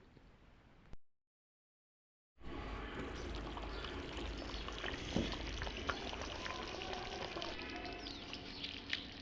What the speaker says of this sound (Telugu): ఒక చెమ్మడు నీళ్ళు పోసుకోవాలి మంచిగా కలుపుకొని